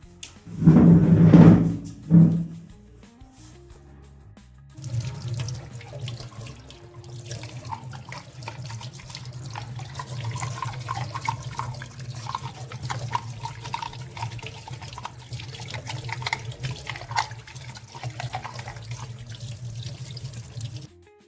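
Parts of a home steam inhaler machine rinsed under a running kitchen tap: after a few loud knocks at the start, water streams steadily into the sink with light splashing and handling sounds, close by and without talk.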